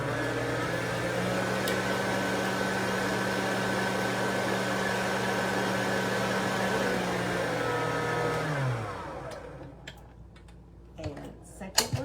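An electric mixer beats lemon brownie batter with a steady, close motor whine for about eight seconds. It then winds down and stops, followed by a few light knocks and clatters.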